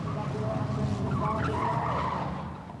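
A race car spins out with tires skidding, a continuous loud screech and engine roar across the whole stretch, steady and close.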